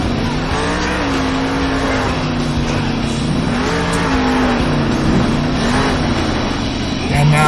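Engine roaring and revving continuously at a Street Outlaws Salt Lake City fun run as a race car lifts into a wheelie, loud and sustained with shifting engine pitch and crowd noise underneath.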